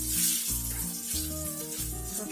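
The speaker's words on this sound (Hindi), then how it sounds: "तेल ये हमें गरम हो जाइछि, लंका दे देबा।" Chili frying in hot oil for a drumstick leaf and vegetable curry, a steady close sizzle under a pulsing low hum.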